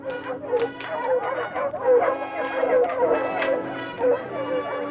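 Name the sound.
hunting dogs barking during a wild boar hunt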